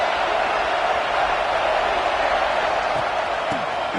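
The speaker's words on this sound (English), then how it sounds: "This crowd is trying to inspire this defense to make a big red zone stop." Dense, steady roar of a large football stadium crowd in a video game, Old Dominion at Nebraska, swelling as the defense faces a red zone stand, loud and continuous with no clear talk over it.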